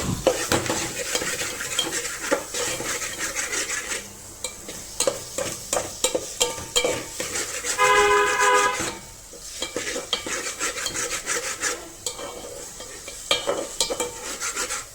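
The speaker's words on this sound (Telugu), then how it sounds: "ఇలా కారం వేసుకొని ఇది కూడా కొంచెం వేయించుకొని" A spoon stirs chili powder frying in a pan of oil for tamarind colocasia curry, with continuous sizzling, steady scraping strokes and occasional clinks of metal on the pan, close and loud throughout.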